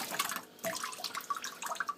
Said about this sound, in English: I'm actually currently doing the washing up